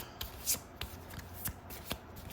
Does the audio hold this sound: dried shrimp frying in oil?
no